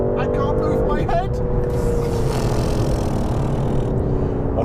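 An Aston Martin DBS accelerating hard, its engine roaring steadily loud from inside the cabin with rising revs and a gear change early on, while people talk over it.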